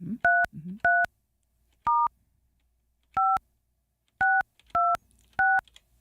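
Telephone keypad dialing sends out seven short, clear tones in an uneven rhythm, each beep crisp and isolated against silence, with a brief murmur of talk at the start.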